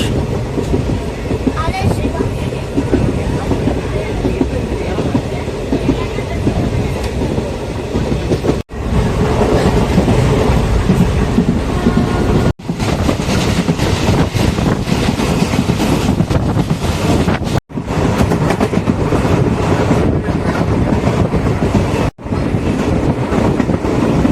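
A train running into Thiruthangal railway station on the Madurai to Sengottai line, heard from on board as a loud, continuous rumble with rhythmic clickety-clack and wind buffeting, broken by a few brief dropouts.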